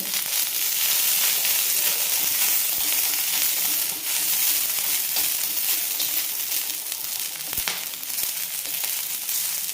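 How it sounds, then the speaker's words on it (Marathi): Green chillies roast in hot oil for a mutton masala, giving a steady, loud sizzle and crackle that fills the whole stretch with no talk over it. "मिरची पण आपल्याला भाजून घ्यायची थोडंसं तेलाची धार सोडते याच्यावर"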